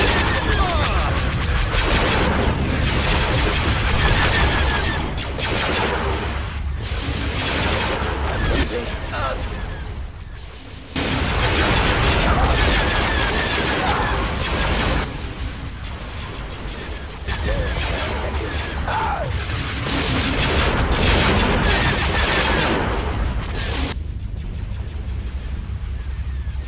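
Space battle in the strategy game Star Wars Empire at War, ships firing on a space station's shield generator: a steady roar of blasts, booms and weapon fire throughout, with unit voices calling orders over the din.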